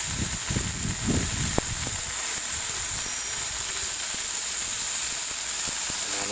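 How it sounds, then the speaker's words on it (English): Bacon slices sizzling in a pan over a campfire, a constant bright hiss with a few crackles and pops, a thud of handling near the start. "Then I'm going to throw us a couple of slices of bacon on here."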